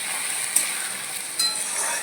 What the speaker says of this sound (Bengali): আদা রসুন পেস্ট দিলাম